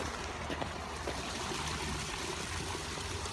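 Water runs steadily through an irrigation channel in a dry rural area, a constant rushing, trickling wash that fills the short stretch evenly at moderate distance with no voices.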